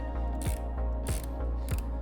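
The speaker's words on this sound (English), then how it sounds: "the first little bolt that I'm going to undo is a T25" T25 bolt being undone on a Kawasaki Z650RS panel with a ratchet, giving a steady run of close clicking pawl ticks broken by three sharper bursts as the handle is swung back.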